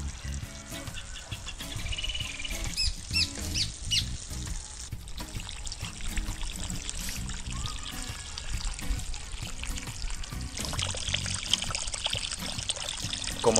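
Water pours and trickles steadily into garden irrigation channels in a home vegetable plot, a continuous splashing flow with occasional faint bird squawks in the background.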